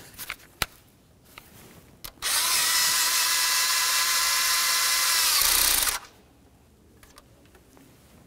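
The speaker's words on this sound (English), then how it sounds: "Start in that mounting bolt, bottom it out, and then torque that to 89 inch pounds." A power tool spins for about four seconds in one steady whir, driving in the ignition coil mounting bolt on a 2013-2015 Chevrolet Malibu 2.5L I4, with quiet workshop clicks before and after.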